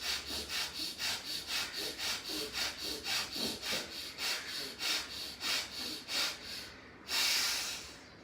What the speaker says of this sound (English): Inhale and exhale from your left like this.